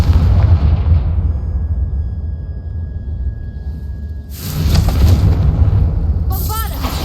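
In Hogwarts Legacy, the Confringo fire spell goes off with a loud, deep explosion and rumble under a continuous game soundscape, followed by a second burst and a crackling tail.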